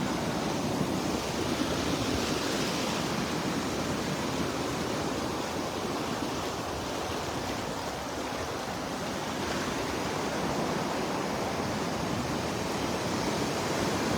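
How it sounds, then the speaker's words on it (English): Waves breaking on a sandy beach in North Naples, Florida, a steady broadband wash of surf rolling on without pause, close and fairly loud with no voices. "These waves are already chipping away at it."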